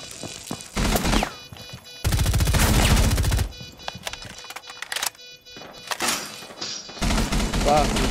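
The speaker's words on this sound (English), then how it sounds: "you're shooting at me" Gunfire in Rainbow Six Siege arrives in several loud bursts separated by short gaps, with a dense rattling stretch in the middle and sharp cracks scattered elsewhere.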